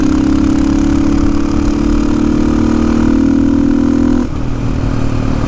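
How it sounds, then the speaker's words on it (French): A motorcycle engine idles close by with a steady, throbbing drone, its pitch dropping abruptly partway through, and a knock is reported in the engine. "Je trouve qu'elle tape au niveau moteur."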